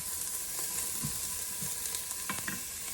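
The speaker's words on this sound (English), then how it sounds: "Alright, the onions in." Onions fry in an Instant Pot with a steady, soft sizzle and a few faint scrapes of stirring, quiet and close with no talking.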